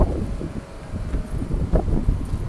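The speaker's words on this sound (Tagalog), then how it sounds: "Ayan na, lakas pa ng hangin." Strong wind of a sandstorm buffeting a microphone outdoors, a continuous low roar with gusty surges and rustling, no voices.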